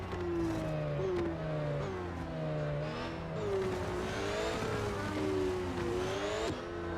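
Fully upgraded race car in the Real Racing 3 mobile game, engine whining and revving through gear changes with rising and falling pitch, a continuous loud drone with brief tire noise.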